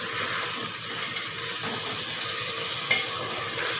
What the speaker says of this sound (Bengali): চিকেনটা একটুখানি এখন ভালো করে মানে ভেজে নেবো আর কি।